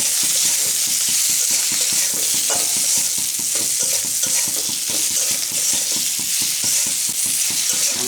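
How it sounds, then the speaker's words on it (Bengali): Fried eggplant and green mango pieces being stirred together in a pan, a rhythmic scraping of the spatula repeating over a continuous loud sizzle, close up. "আমার বেগুন খুব ভালোভাবে মিশিয়ে নেব"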